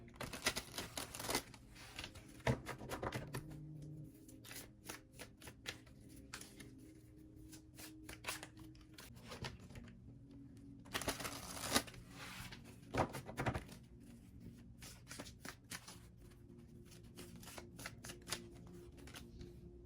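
Tarot cards being drawn from a deck and laid out on a table, giving soft, scattered snaps, slides and shuffles close by over a quiet room, with no talking.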